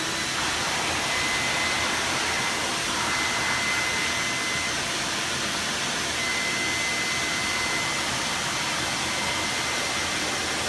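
A vacuum cleaner set to blow air, holding a ball aloft in a Bernoulli's principle demonstration: a steady, loud, broadband rushing roar that continues unchanged throughout with no talking.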